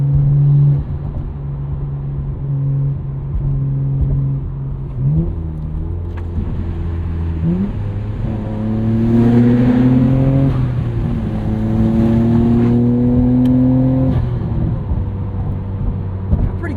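A twin-turbo 1999 Nissan Skyline R34 GT-R engine drones steadily from inside the car, its induction note rising in pitch through several gear pulls with audible shifts between them, loud and continuous with no talking.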